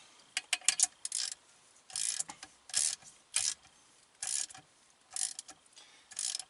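A hand ratchet clicks in short bursts while wheel bolts are tightened on a dually truck with an aftermarket Grant wheel, giving crisp, close ratcheting strokes separated by brief pauses.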